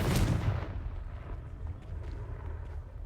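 A fiery Confringo spell blast in Hogwarts Legacy, with a deep booming explosion at the start that rumbles and fades over a few seconds, no talking.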